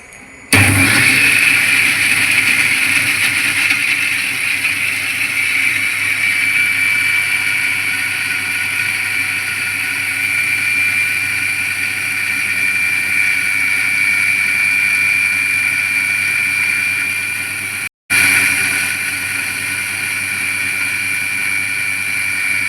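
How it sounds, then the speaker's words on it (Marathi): An electric mixer grinder whirring with water and ingredients in its jar, starting abruptly and holding a loud, steady high-pitched motor whine, with one brief cutout near the end before it resumes. "चला तर आता आपण मिक्सरला लावूया त्याला मिक्सर लावून घ्यायचं आहे आपल्याला"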